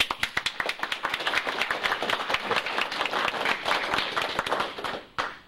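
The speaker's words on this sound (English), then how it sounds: "I think we should applaud our firemen who are here tonight" An indoor audience applauds firemen, a lively burst of close, crisp clapping with distinct individual hand claps in quick rhythm that builds and then tapers off sharply near the end.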